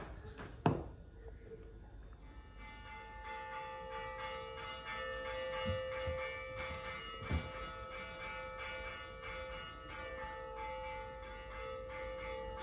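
Church bells ring with sustained, overlapping metallic tones that linger, heard at moderate distance with a sharp knock near the start and a few duller thuds among the peals.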